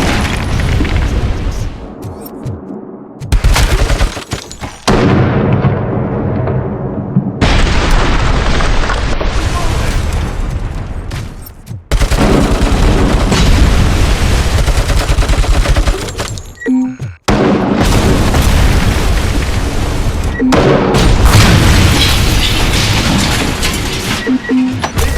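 Cobra cannon heavy weapon firing in the Robocop Rogue City video game: loud booming blasts come in repeated bursts separated by short silences, with game voices mixed in at moments.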